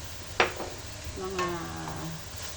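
Corn being stirred in a pot while cooking patola soup, a sharp scrape of the utensil followed by soft sizzling and a faint tonal hum, moderately quiet and close.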